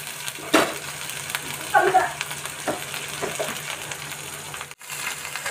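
Spicy masala frying in a pan as chopped tomato goes in, a steady sizzle with stirring scrapes and a few clinks, and faint speech in the background.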